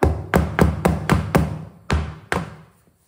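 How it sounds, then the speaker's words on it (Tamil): A cake tin filled with eggless jaggery plum cake batter is tapped on a counter about seven times in a steady rhythm, each a sharp close knock, the last ones spaced wider and slightly softer. "ரெண்டு தட்டு தட்டிக்கலாம்."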